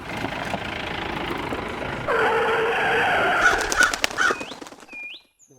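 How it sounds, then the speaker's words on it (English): A car rolls along with engine noise, then its brakes squeal in a rising, harsh skid lasting a couple of seconds before it stops, followed by a few short bird chirps. "Our car comes to a sudden halt as Muhammad Ali waves to someone."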